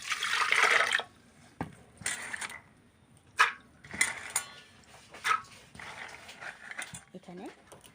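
Water is poured over washed peas in a pressure cooker in a short, close splashing burst at the start. After it come scattered clinks and a person talking.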